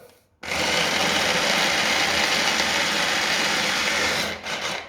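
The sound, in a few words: food processor chopping cashews on slow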